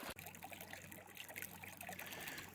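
Water trickling in a small stream at a meadow during a day hike, a faint, steady babble heard alone throughout.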